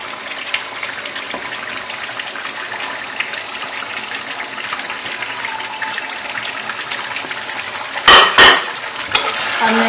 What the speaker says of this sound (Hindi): अब मैं इसमें ऐड कर दूंगी टमाटर जो मैंने इस टाइप के काट दिए हैं